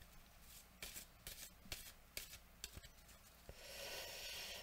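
Tarot cards slapped and slid one by one onto a table, a string of sharp close snaps in irregular rhythm, then a softer sustained shuffling rustle, with no talking over them.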